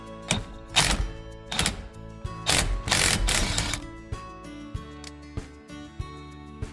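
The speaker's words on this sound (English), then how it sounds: "I've got my Ugga Dugga impact" An impact wrench with a 13/16 impact socket works loose the steering wheel nut on a first-generation Dodge Ram truck, giving several loud, close rattling bursts in the first four seconds, followed by quieter clicks and taps.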